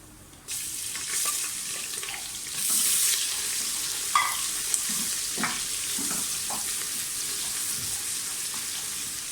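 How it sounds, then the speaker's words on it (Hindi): Onions frying in hot oil for a dal gosht with whole moong dal, with ginger garlic paste then added; a steady loud sizzle runs throughout, swelling partway through, with a few clinks and stirring scrapes. "प्याज जो है वो आप गर्म ऑयल में डालें तो बहुत जल्दी फ्राई होगा। अच्छी तरह से फ्राई करें।"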